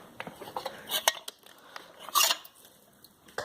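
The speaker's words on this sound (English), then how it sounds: "It's like a hand blender cutter thing." A metal hand blender blade is handled inside an abandoned train station, giving scattered light clinks and scrapes of metal against metal, close by and irregular, with no talking.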